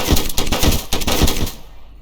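Gunshots in the police game Flashing Lights, three sharp close shots at a steady half-second rhythm, the last fading into quiet.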